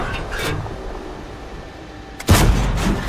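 The AT-7 tank destroyer's gun fires in World of Tanks, a single loud booming blast that cuts in sharply after a quiet engine rumble and trails off into a short echo.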